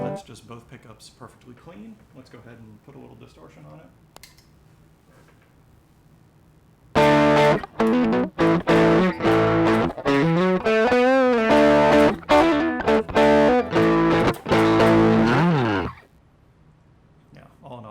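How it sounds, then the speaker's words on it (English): Harley Benton CST 24 electric guitar, built from a kit, played through distortion: after a few seconds of low talk, loud, dense overdriven chords and riffs burst in and continue for about nine seconds before cutting off. "Let's go ahead and put a little distortion on it."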